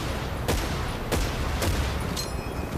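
Gunfire in the video game Battlefield 1943, set on Guadalcanal: a steady dense roar of battle with several sharp, loud shots cracking out at roughly half-second intervals.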